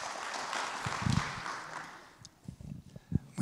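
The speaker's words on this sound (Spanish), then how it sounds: "Por favor, nuevamente un fuerte aplauso." An audience at a medical lecture on osteoarthritis applauds to welcome the speaker, a moderate, fairly distant wash of clapping that thins out into scattered claps and thumps toward the end.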